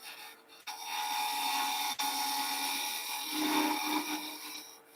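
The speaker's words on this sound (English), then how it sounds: "Now I use the skew chisel to make a couple of rings just below that top." A skew chisel tapers a wooden finial on a spinning lathe, a steady close scraping hiss with brief pauses and slight shifts in pitch as the cut changes.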